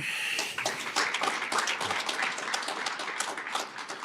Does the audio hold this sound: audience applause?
yes